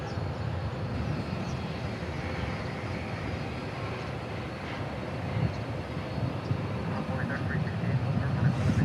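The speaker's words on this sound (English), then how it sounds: "we got American 21 Heavy coming in on a Dreamliner." A distant, steady engine rumble from an American Airlines Boeing 787 Dreamliner arriving at DFW airport, slowly building toward the end, with voices now and then.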